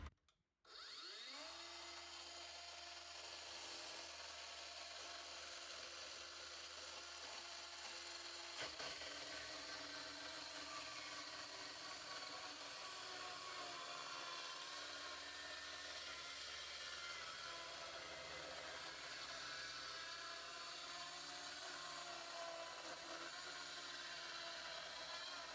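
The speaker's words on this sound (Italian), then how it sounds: "Procedo con il primo taglio in assoluto di questa sega a batteria." A Parkside PHKSA 12 A1 12V cordless circular saw spins up and cuts through wood with a sustained, dense whirring grind that continues steadily for over twenty seconds with no talking.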